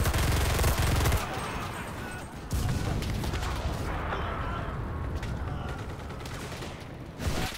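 Gunfire crackles in the game Enlisted during the Battle of Stalingrad, with a sniper firing on players amid bursts of loud shots and a busy battlefield din; a voice talks faintly in the mix.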